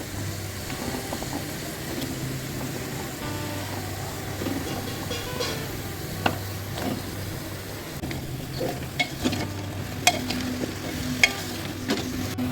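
Vegetables going into a pan for chicken stew, a steady sizzle with a low hum underneath and occasional stirring clicks, no talk.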